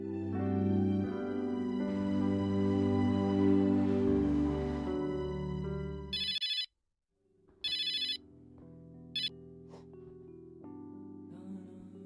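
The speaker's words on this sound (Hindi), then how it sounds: "लैंडलाइन पर कोई फोन आया था तुम्हारे लिए" A landline telephone rings in short electronic bursts, three separate rings with gaps between them, following a stretch of music, loud and close with no speech.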